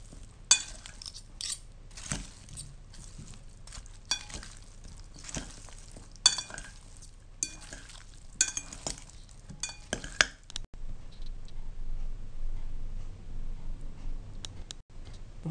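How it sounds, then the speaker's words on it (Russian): Boiled potatoes are stirred with unrefined sunflower oil in a bowl, making soft scraping and clinking spoon strokes in irregular bursts. A steadier low rustle follows for the last few seconds, with no talking. "Заправляем нерафинированным подсолнечным маслом и хорошо перемешиваем"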